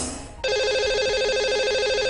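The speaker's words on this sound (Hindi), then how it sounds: "चलिए उन्हें फोन लगाते हैं।" An outgoing phone call rings as a broadcast show dials its lucky caller. Brief background noise gives way to a loud, steady, pulsing ringback tone that continues without interruption.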